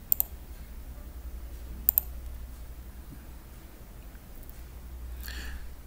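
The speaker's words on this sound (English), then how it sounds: "Double click on it" A computer mouse double-clicks on a file in Excel, two quick sharp clicks near the start and another close pair about two seconds in, faint against quiet room noise.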